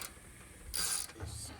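A wrench works loose a rusty gas tank fitting, giving a short burst of metallic ratcheting and clicking against a quiet background, close and fairly faint.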